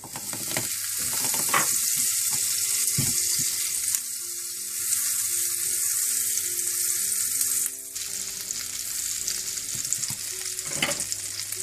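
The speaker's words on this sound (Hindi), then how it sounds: "सबसे पहले आपने मक्खन गरम करना है।" Butter heating in a pan gives a steady, loud sizzle and crackle that runs the whole time, with occasional stirring scrapes and brief bursts, no voices.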